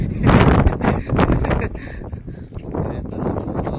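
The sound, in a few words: strong wind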